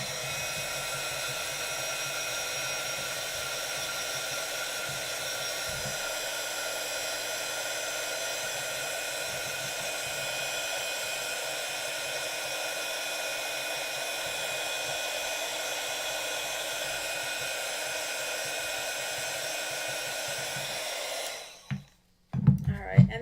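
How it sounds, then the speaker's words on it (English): Handheld heat tool blowing steadily for about twenty seconds to dry textured paint and grit paste on a craft tombstone, a loud constant whirring hiss that cuts off near the end with a few clicks, talk faintly underneath. "use my heating tool"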